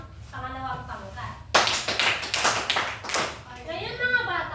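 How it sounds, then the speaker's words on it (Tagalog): A group of children in a classroom clap in unison five times, sharp bursts of applause following a few seconds of murmured speech, with voices chattering again afterward. "bigyan naman natin ng 5 palakpak ang pangalawang pangkat"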